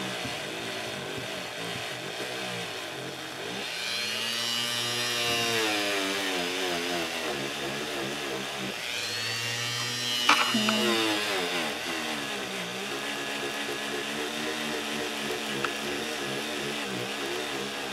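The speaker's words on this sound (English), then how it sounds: "be sure you hold on tight if you use a Dremel, because it can throw it out of your hands" A Dremel rotary tool sands and buffs polymer clay, giving a whining motor tone that rises and falls in pitch as the load changes, fairly quiet and close, with a faint tap partway through.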